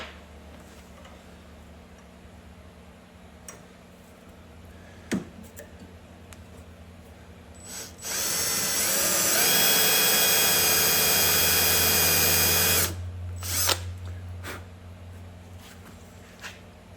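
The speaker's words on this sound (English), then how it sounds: "take my Forstner bit and countersink a hole so that I can bury the head of this in it" A power drill with a Forstner bit whines loudly for several seconds as it cuts a countersink hole into wood, preceded and followed by quiet clicks and handling noises.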